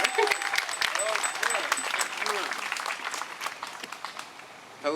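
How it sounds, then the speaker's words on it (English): A crowd at an outdoor youth Black Lives Matter march breaks into steady applause, dense clapping mixed with cheers and whoops, with voices calling out over it before it tapers off. "Give him a round of applause."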